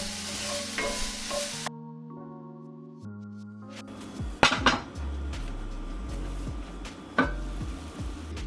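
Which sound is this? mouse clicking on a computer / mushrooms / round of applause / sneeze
mushrooms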